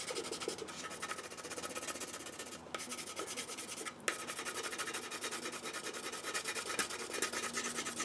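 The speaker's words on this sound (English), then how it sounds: "when I run the pencil over here," A pencil drags steadily across the surface of a hand-planed wooden board, making a continuous dry scratching rub with a few brief pauses, close and fairly loud.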